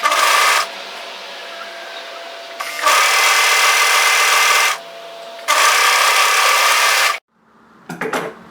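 A sewing machine stitches the shoulder seam of a knit teddy jacket in three loud bursts of rapid whirring, separated by short pauses, then stops, followed by a few light handling sounds.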